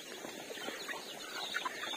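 Chickens on a small Filipino farm near a fishpond cluck softly and intermittently, a few short calls spread over a faint outdoor background.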